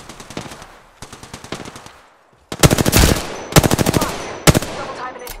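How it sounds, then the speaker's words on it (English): Automatic gunfire in the shooter Apex Legends, rapid bursts of shots at first moderate then much louder and closer, with short pauses between volleys. "I am taking fire, friends."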